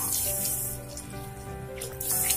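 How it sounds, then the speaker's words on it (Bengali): Water is poured into a pot of cooking tomato and curry leaf lentil dal, a steady, close splashing gush that lasts the whole moment with no talking. "এবার আমি পরিমাণ মতো জল দিয়ে দেব"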